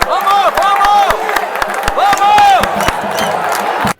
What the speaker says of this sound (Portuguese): Em casa, a torcida do Sapo empurrava o time.